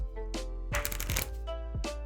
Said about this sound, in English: let me quickly shuffle the deck